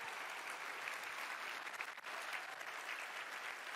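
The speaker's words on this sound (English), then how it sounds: "another round of applause for those awesome folks" Dense, steady applause from a large audience at the QuakeCon 2018 keynote, honoring the event's volunteers; a continuous wash of clapping that fills the hall at even loudness throughout, with no distinct voices standing out.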